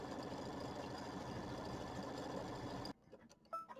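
A sewing machine quilting an embroidered block, its needle hammering in a fast, even mechanical rhythm close by for about three seconds, then stopping abruptly and leaving a few faint handling sounds.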